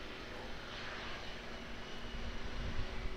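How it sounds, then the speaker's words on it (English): Airbus A320 on final approach to land at Auckland Airport, heard as a steady, distant broadband jet roar that swells slightly toward the end, with no voices. "we've got an A320, I believe, on final."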